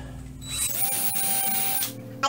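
A power drill spins up with a rising whine, runs steadily for about a second while drilling a pilot hole into a wall stud, then stops, heard close by.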